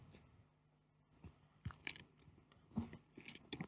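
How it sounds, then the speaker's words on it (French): Marshmallow being chewed close up, with soft wet crunching and biting sounds coming in irregular bursts and no voices. "t'étais tellement troublé parce que tu es en train de mâchouiller"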